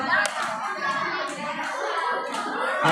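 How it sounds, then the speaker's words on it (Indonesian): Children and adults clap together in a short burst of applause for a young child at an Islamic kindergarten gathering, scattered hand claps continuing under chatter. "Tepuk tangan untuk Jahit"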